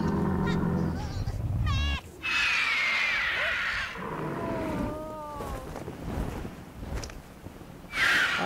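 A turkey-like bird creature in the video game Max and the Curse of Brotherhood gives warbling, gobbling squawks and pitched trills over whooshing wind and game sounds, with a few loud bursts and muffled talk mixed in.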